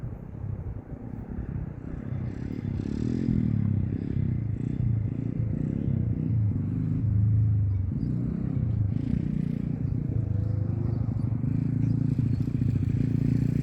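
A motorcycle engine rumbles steadily at a moderate distance near a dog park in Spanish Fork, a low continuous drone with some clatter and scraping noises mixed in.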